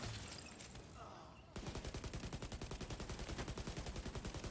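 Automatic rifle fire in the shooter game The Division 2, a dense rapid rattle of shots that starts abruptly after a noisy lead-in and continues steadily, loud and close.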